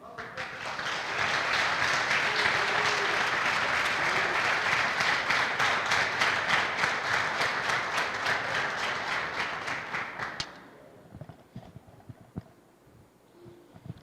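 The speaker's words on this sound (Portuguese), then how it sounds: "Vai para lá, irmão José, aplaude aí." Congregation at a Sunday celebration service in a Brazilian church claps in a loud, dense burst lasting about ten seconds, then cuts off abruptly, leaving scattered faint claps and room noise.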